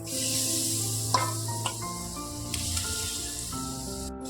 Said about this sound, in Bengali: এবার আমি যে বাকি আলুটা রেখেছিলাম অর্ধেক ওটা এবার ভেজে নেব